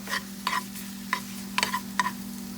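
Eggs cooking in a frying pan, with a run of separate crackles and pops in irregular bursts over a steady low hum, close and fairly loud, and no voices.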